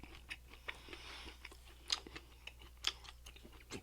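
Someone chewing a mouthful of extra-hot chocolate bar made with Carolina Reaper, Scotch Bonnet and Chocolate Reaper peppers, with soft close mastication and two sharper crunchy bites standing out over a low background hum.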